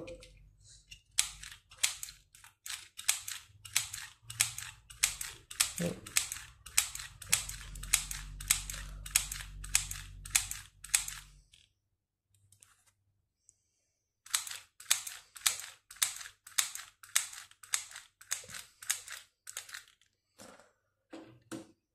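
A hand-operated, stapler-style mini sewing machine stitches fabric with quick, sharp, repeated clicks in steady bursts. The clicks pause briefly near the middle, then resume. No one speaks.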